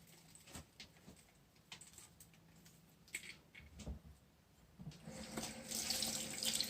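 A tap runs into a sink while soil is washed off the fine roots of a schefflera grown over lava rock. Quiet handling noises come first, then the water starts and flows steadily and close.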